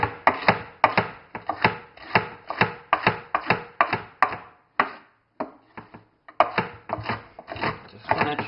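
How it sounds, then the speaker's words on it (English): A knife chops a red onion on a board in a steady run of sharp, close thuds, pausing briefly midway before resuming the quick rhythm. "Just going to chop it down to that amount."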